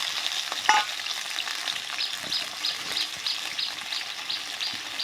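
Potatoes with turmeric and salt frying in a pan, a steady close sizzle with light stirring clatter and one sharp scrape near the start, no talking.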